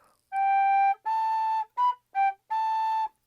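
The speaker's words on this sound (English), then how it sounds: "So when you hear the whistle" Five bright tonal whistle blasts in a rhythmic pattern for a third-grade music class beat game, long, long, short, short, long, clear and close with silence between.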